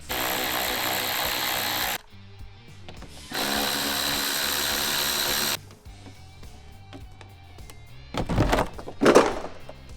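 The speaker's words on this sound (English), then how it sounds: "step one is to remove the under tray so we can get access to all the necessary bolts" Tools removing the under tray of a Nissan 350Z: two long bursts of a power tool whirring, then clinks and knocks of fasteners and parts, ending in louder clattering thumps.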